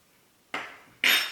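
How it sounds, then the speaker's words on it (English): Two quick metallic clinks of loose tea scooped into a metal basket infuser, the second brighter and louder, in a quiet room. "Use my metal basket infuser. I'm just going to scoop my tea right into there."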